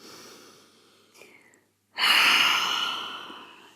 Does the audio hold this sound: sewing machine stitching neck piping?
no